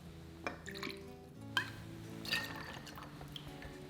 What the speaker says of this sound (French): On poursuit ensuite notre cocktail en ajoutant le rhum